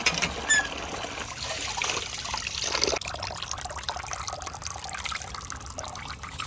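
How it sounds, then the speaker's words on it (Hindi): Rice is washed in a village kitchen as water runs and trickles steadily, close and fairly loud. A slight shift in the splashing marks the midpoint, and no voices are heard. "मैं जो है ना चावल धोने आई थी"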